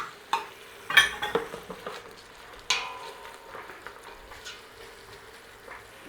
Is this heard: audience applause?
no